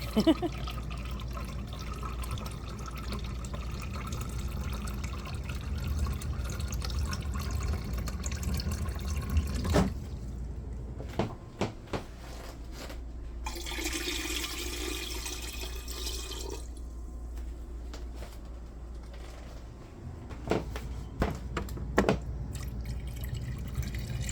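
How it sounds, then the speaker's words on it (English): Water poured into a pot to brew a batch of kombucha, a steady running stream with splashing and dripping that continues throughout, broken by a few clunks and brief pauses. "I show you most of me adding the water here"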